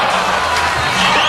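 Crowd cheering and shouting at an X Games Los Angeles street skateboarding final, a loud continuous roar of a large audience with whoops rising near the end.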